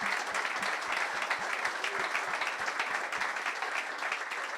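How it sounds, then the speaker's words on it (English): An audience at a Palace for Life celebration event applauds three young people, a dense, even burst of clapping from a crowd indoors that carries on steadily throughout. "round of applause please for Hazmi,"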